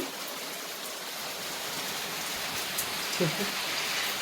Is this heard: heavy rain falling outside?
yes